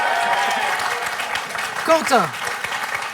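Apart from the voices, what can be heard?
studio audience applauding on a French quiz show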